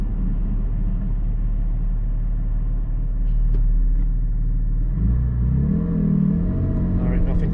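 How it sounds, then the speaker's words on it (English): A Porsche GT4 sports car accelerates hard through the gears, a loud close engine rumble rising in pitch with a clear gear change and climbing revs near the end. "Let's go through here and rip it through the gears."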